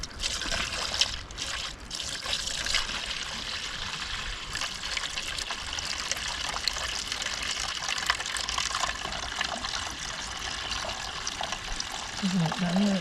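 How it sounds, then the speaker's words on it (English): Water gushes and trickles steadily as a cottage water system is filled, a continuous hissy flow running throughout with occasional brief knocks. "Let's add some more water and see what happens."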